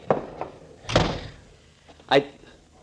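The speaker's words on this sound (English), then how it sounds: "Shut the door after you come in, Andres." In an old-time radio drama set in a cottage, a door is shut with three solid wooden thunks spread over a few seconds. The last knock is the heaviest, and muffled voices are heard around the knocks.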